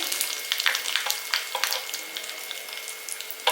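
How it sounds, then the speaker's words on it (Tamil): Mustard seeds, curry leaves and dried chillies fry in hot oil, giving a close, steady sizzle with scattered crackles and pops from the spluttering seeds. "இப்போ கடுகு நல்லா பொரிஞ்சிருச்சு அப்புறமா கருவேப்பிலை போட்டுருக்கேன் நாலு வத்தலும் போட்டிருக்கேன்"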